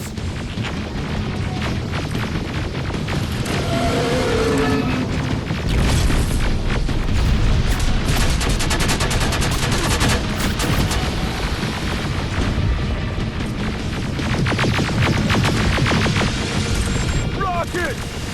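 Video game Terminator: Resistance combat, with dense gunfire and booming explosions rolling continuously at high volume, mixed with intermittent shouting voices and mechanical effects.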